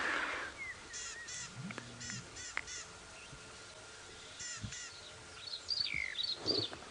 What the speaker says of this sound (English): I heard another bird calling in the tree above us, and it's a familiar call